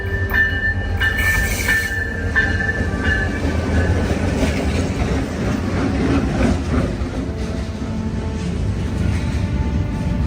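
A CN freight train rumbles past close by, its steady roar filled with rattling wheels and faint metallic squeals, continuous and loud throughout with no voices.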